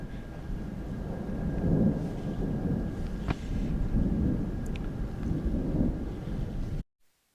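Steady rain hisses outdoors on a homestead with wind buffeting the microphone and a low rumble of thunder underneath, before the sound cuts off abruptly near the end.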